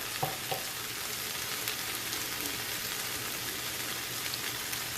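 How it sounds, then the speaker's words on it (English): Paprika frying in a little oil for a Russian stew, a steady close crackling sizzle with small pops, continuous and fairly loud with no talk. "And I like to fry my paprika for a little bit as well."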